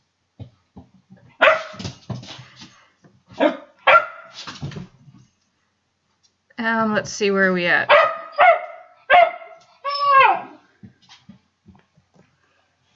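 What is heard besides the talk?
dog barking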